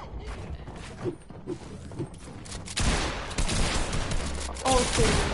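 Rapid video game gunfire rattles in dense bursts that grow louder and more sustained partway through, mixed with clicks and mechanical noises, and a player's voice is heard now and then.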